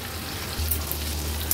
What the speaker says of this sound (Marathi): मागची बाजू पण आणखीन आपण एक 2 ते 3 मिनिटांसाठी मीडियम फ्लेमवर व्यवस्थित तळून घेऊया